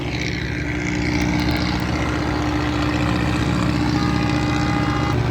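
A fishing boat's engine, the KM Putra Mandiri, idles down as it docks after a long voyage, a steady loud drone with low throbbing hum running evenly throughout.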